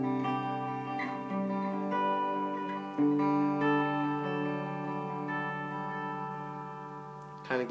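Electric guitar strumming high chord shapes for the worship song One Thing Remains, with bright, ringing chords that change every couple of seconds and sustain softly, played alone.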